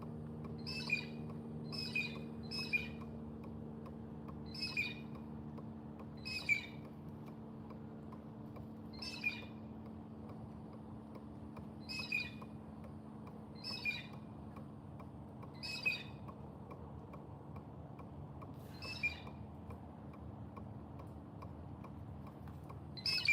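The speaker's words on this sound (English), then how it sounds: "a blue jay just landed right next to me" Blue jay calling outdoors, about a dozen sharp, raspy squawks repeated at irregular intervals over a steady low hum, fairly close and clear.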